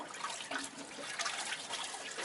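Water pours and trickles back into a bucket during a boat's bottom-paint stripping with Citristrip, a steady, close splashing flow with a light bubbling texture and no voices.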